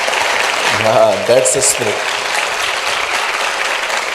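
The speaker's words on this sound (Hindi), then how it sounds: "अगर आप यीशु के लिए ताली बजाएंगे तो अच्छे से बजाओ" A church congregation claps for Jesus during a Hindi sermon, a dense, steady roar of applause filling the room while someone speaks briefly over it.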